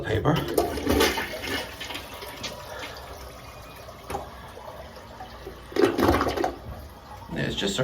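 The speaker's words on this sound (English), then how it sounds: "It's just a real shitty flush" A partially clogged toilet flushes weakly, giving short bursts of rushing, gurgling water separated by quieter stretches of trickling refill, with a voice faintly present in the background.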